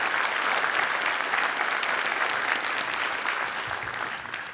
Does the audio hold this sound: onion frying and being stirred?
no